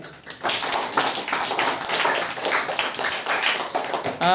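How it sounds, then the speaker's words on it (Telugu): Schoolchildren in a primary school maths class clap together in a dense, steady round of applause that carries on loudly from start to finish, with no talking. "వెరీ గుడ్, క్లాప్ చేయండి."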